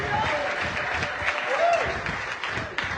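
A church congregation in Addis Ababa applauds in a dense, steady patter of clapping while a voice rises briefly above it.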